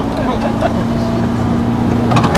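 Car engine under partial throttle on a Texas driving course, a steady droning hum with a constant low tone held near and loud for a couple of seconds.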